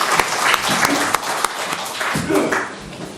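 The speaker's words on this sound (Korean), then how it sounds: "우리 박수로 영광 올려드리겠습니다" Church congregation applauding together, a dense steady wash of clapping with a few sharper claps standing out, lasting the full few seconds at moderate loudness.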